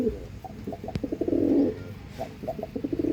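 An Andhra line pigeon coos up close in a few soft, throaty, rolling phrases, with one sharp click partway through and low room noise around it.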